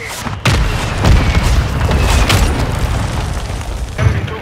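A loud, close airstrike explosion in Modern Warfare 2 gameplay, a heavy booming blast followed by sustained rumbling debris and a second burst near the end.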